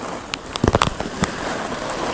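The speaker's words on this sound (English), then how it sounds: "So now it's really raining." Heavy rain flooding a city in a video game, a steady hiss of downpour with scattered crackling and popping droplet impacts over a constant wash of noise.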